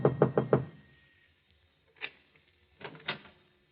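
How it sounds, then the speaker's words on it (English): Knocking on an apartment door in an old-time radio drama: a quick burst of four sharp raps, then a pause, a single knock, and a closing cluster of louder raps, with no talk over them. "climbs to the top floor, and knocks on the door."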